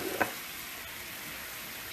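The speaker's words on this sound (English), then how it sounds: "Stir that in." Soy sauce and cornstarch are stirred into a hot pan while cooking Chinese food, giving a steady, even sizzling hiss with a brief tap near the start. No voices are heard.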